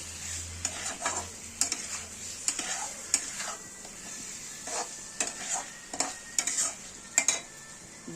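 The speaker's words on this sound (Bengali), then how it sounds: "দিয়ে ভালো করে মিশ্রণটাকে মিশিয়ে নেব" Spices being stirred into a potato curry in a pan, with repeated scraping strokes and light sizzling beneath, moderately close and without talk.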